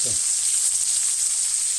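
Steady sizzling of small crucian carp frying in a hot pan, a continuous bright crackle with a brief low murmur near the start.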